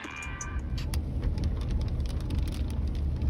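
Heavy rainstorm heard from indoors or a vehicle, a dense, loud, continuous roar of rain with a low rumbling undertone that holds steady throughout.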